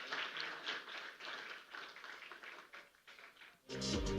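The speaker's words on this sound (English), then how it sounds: "let's welcome Mr. Tejas with a huge round of applause" A small audience claps at a business awards event in Bengaluru, a thin, moderate patter of applause that dips and then swells louder near the end.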